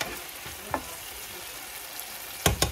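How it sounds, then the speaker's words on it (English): Fried rice with oyster sauce stirred in a pan, a continuous frying hiss with a few sharp scrapes of the utensil, two louder ones near the end, close and without talking. "Stir lang natin."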